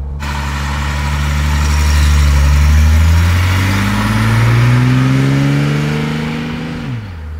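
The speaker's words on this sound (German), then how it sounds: "Ist eine sehr, sehr drehfreudige Maschine und er läuft auch gut. Also ich trete jetzt nicht ganz drauf." A 1964 Mercedes 230 SL Pagoda with four-speed automatic transmission revs while driving, its engine note rising steadily, dipping briefly as it shifts, climbing again, then dropping off, loud and close throughout.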